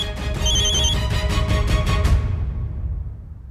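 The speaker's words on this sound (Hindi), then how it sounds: "जिसका फोन बार बार आ रहा है" A phone rings repeatedly in a household scene, a steady electronic ring pattern that sounds for about two seconds over a background music bed and then fades out.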